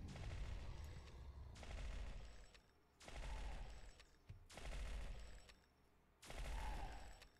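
Bursts of gunfire from a BLP weapon in the online game Entropia Universe, five evenly spaced volleys of rapid shots, each lasting about a second, loud and close, with no talking.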